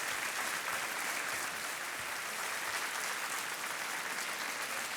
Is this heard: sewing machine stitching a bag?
no